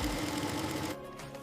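Automated laser-guided sewing machine stitching horn handbags in a factory: a fast, steady mechanical whir and clatter, close and continuous, easing to a quieter hum near the end.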